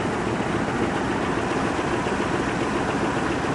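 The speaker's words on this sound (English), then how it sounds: "As you can see, it's idling" An RS12 diesel locomotive idles at a rail yard in a continuous, dense rumble with steady vibration, unchanging throughout and no voices.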